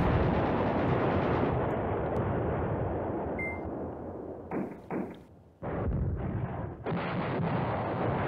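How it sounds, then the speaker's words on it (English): Artillery fire in the Command Ops 2 war game comes as heavy, rumbling booms over a continuous dense roar. Short pauses and sharp new blasts break it up near the end. "The artillery is like a leading me up here, helping me out here."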